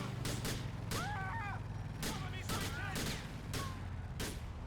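Video game gunfire while shooting at an enemy character who seems hard to kill: several sharp bursts of shots at irregular intervals over a steady low game rumble, with faint chirping tones between them.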